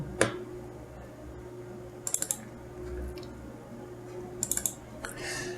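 A computer mouse gives a few quick, close clicks, including short bursts of three or four, over faint room hum during a right-click on a desktop computer.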